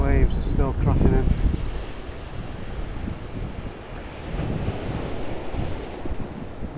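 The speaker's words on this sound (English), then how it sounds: "The waves are still crashing in." Huge waves crash against the seafront promenade at Rhos-on-Sea, a continuous loud surge and roar buffeted by heavy wind noise, with a voice briefly heard at the start.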